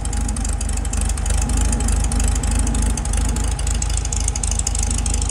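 A 1972 Volkswagen Beetle 1500 engine with Hall-effect ignition idles steadily up close, a low rhythmic chugging that stays even throughout.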